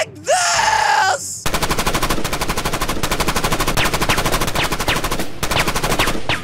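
Rapid automatic gunfire in a Roblox game rattles loud and continuous for several seconds after a brief rising electronic tone, the shots tightly spaced with a few brief gaps.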